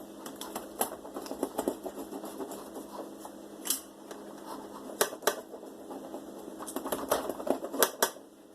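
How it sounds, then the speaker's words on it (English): Scissors snip in a run of sharp, irregular clicks and crisp cuts, close and fairly quiet, with a few louder snaps. "I'm still going to need to use scissors."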